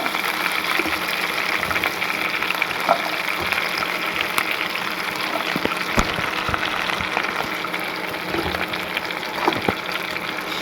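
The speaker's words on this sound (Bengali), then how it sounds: "ধীরে ধীরে সব সবজিগুলো ভেজে নেব।" Beans, flat beans and potatoes fry together in a pan, giving a steady crackling hiss with scattered sharper pops throughout and no talking.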